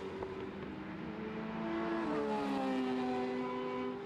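Single-seater Monoposto race cars run through Paddock Hill Bend at Brands Hatch, their engines droning steadily and rising in pitch as they accelerate, a moderately distant, continuous whine with no talk over it.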